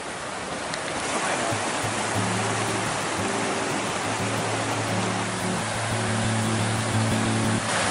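A steady, full rush of a waterfall and flowing stream on a Montana mountain trail, loud and continuous, with a faint low hum running underneath.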